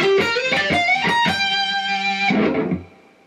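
Distorted electric guitar playing a fast pentatonic run using three-note-per-string slides and hammer-ons, a quick flurry of legato notes ending on a held note that rings and fades, played alone.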